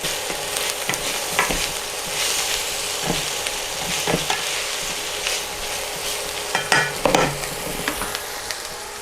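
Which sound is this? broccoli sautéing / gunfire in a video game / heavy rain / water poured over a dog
broccoli sautéing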